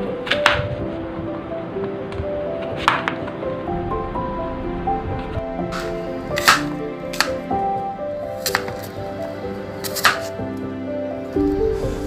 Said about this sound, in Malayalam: ആദ്യം നമുക്ക് ആപ്പിൾ എടുക്കാം, അത് കട്ട് ചെയ്തെടുക്കാം।